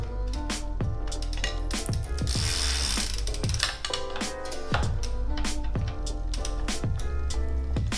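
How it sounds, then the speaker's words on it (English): A pedal wrench ratchets while tightening pedals on a bicycle during home assembly, a rapid series of close, loud metallic clicks coming in uneven bursts, with a brief hissy swell partway through. "Take your 15mm wrench, or pedal wrench in our case, and snug them up."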